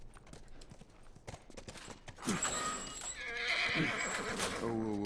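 Clip-clopping hooves lead into a loud, drawn-out horse neigh in the video game The Last of Us, the whinny rising and wavering near the end, with a voice faintly under the start.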